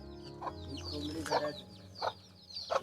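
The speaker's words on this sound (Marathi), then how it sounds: "हे कोंबडी इकडं आहे" A hen clucks in a few short, close bursts among cashew trees on a farm, moderately loud over faint outdoor background, with someone speaking quietly nearby.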